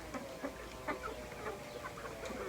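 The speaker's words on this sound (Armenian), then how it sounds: "բաց եմ թողում հավերիս" Farmyard hens clucking as they are let out on a mild day, a few soft scattered clucks close by over a low steady background hum, with no talking.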